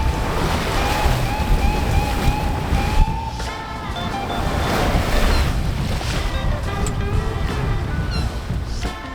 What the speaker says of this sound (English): we're sailing along really nicely at 5 knots